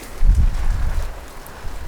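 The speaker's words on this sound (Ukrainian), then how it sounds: "Вітер страшний." Strong wind buffets the microphone with low, rumbling gusts, loud and close, with no voices, outdoors by fields in changeable rainy weather.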